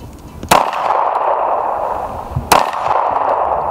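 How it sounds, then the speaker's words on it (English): Two sharp handgun reports about two seconds apart at an outdoor arctic pistol competition, each loud and close with a ringing tail over steady background noise. "I'm just going to go ahead and shoot this thing"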